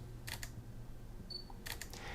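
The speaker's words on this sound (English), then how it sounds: "Now another thing I've grown to like about this camera is the quietness of the shutter." A Panasonic G85 mirrorless camera firing its quiet electromagnetic shutter twice, each release a soft, brief double click, close but faint over a low background hiss.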